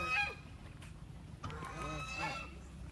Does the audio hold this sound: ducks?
yes